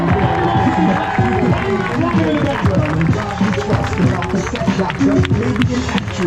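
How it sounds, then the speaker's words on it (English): A street-performance crowd claps and cheers in a dense, sustained wave of noise, with voices calling out through it. "Everybody clap your hands and make some noise."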